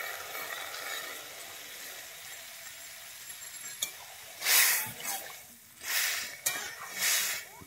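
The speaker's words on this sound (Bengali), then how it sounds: "এবারে আমি একটু জল দিয়ে দিচ্ছি।" Water splashed into a hot pan of pui shaak (Malabar spinach) bursts into loud, hissing sizzles: three or four sharp surges, each fading back toward a quieter crackle over faint kitchen background.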